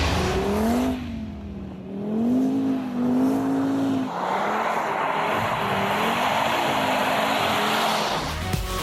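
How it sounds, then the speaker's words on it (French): An Audi RS five-cylinder engine revving on a low-grip track, heard from inside the cabin as a loud, continuous drone that rises and falls in pitch, with a broad rushing roar building in the second half. "On entend davantage à l'intérieur de l'habitacle le 5 cylindres."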